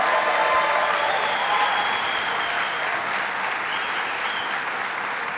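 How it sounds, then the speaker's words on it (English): A crowd at a Governor Cuomo event in Hudson applauds Mayor Tiffany Hamilton, a broad, sustained ovation from a large audience that fades slightly over several seconds. "Let's give her a round of applause."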